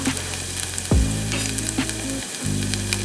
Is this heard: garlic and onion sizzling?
yes